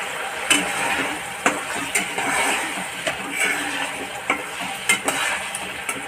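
A pot of clam and potato curry bubbling on a rolling boil, a dense steady gurgle broken by a few sharper pops and clinks.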